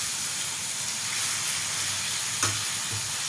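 Chicken coated with chilli powder, salt, turmeric and black masala sizzles steadily in a pan, a continuous close hiss of frying with a brief scrape of stirring partway through and no talk.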